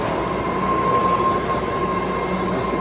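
Boston subway train running on the tracks, a steady loud rumble of wheels on rail with a sustained metallic squeal ringing over it throughout, no voices.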